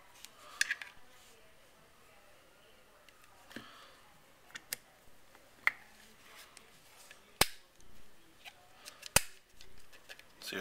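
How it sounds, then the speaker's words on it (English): A handful of sharp metallic clicks and snaps from a Glock pistol slide during reassembly, scattered and fairly close, with one crisper locking click standing out near the end, amid quiet handling noise. "you'll be able to hear a audible click when it's all the way locked in place"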